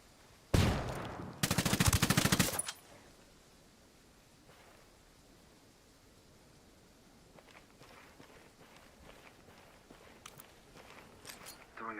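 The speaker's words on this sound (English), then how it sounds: "Hey, throwing a flashbang." Flashbang grenade going off in the Ghost Recon Wildlands video game: a sharp loud bang followed by a longer dense burst of crackling blasts, then fading into quiet background rustle and faint footsteps.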